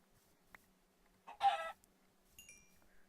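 A single Minecraft chicken clucks loudly, a short burst of clucks close by, with faint game sound effects around it and otherwise quiet.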